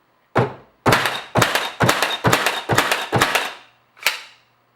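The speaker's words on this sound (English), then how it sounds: "we can push the button one more time, get a green light, and we're now in bump fire mode. So all we gotta do is hold the trigger" A Milwaukee M18 cordless finish nailer fires nails in bump fire mode: seven sharp, loud, close thunks, six in quick steady succession and a last one after a short pause.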